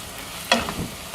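Chopped capsicum tipped into a pan of softened frying onions and stirred, one sharp clatter followed by a short scrape and gentle sizzle, no talking.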